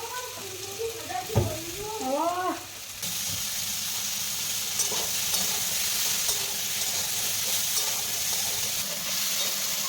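Cauliflower and potato curry with peas and paneer sizzles steadily in a pan, a close, continuous frying hiss that grows louder after a brief voice and a few clinks at the start.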